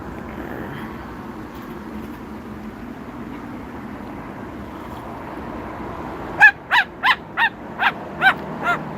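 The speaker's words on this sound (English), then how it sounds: "Okay, that was a sparrow." A small bird gives a series of about seven short, evenly spaced chirps nearby on a Calgary patio, following a stretch of low outdoor rumble and murmur.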